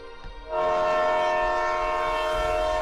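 A train on a quiet line: after a brief quiet start, a loud sustained horn-like tone with steady rail rumble fills the rest, near and continuous with no talking.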